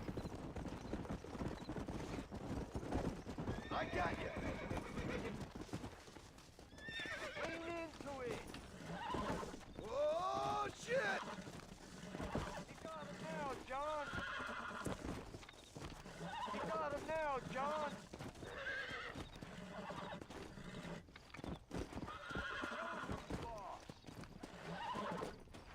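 Horse neighing and clip-clopping hooves in the video game Red Dead Redemption, repeated whinnies over a continuous rhythmic hoof clatter, with someone talking throughout.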